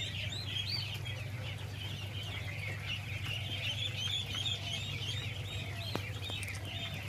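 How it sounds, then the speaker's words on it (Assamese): Incubator-hatched ducklings and chicks on a duck farm in Abhayapuri, Assam, peep in a busy, continuous chorus of high chirps over a steady low hum, with no speech. "পোৱালিবিলাক ইমান ধুনীয়া পোৱালি"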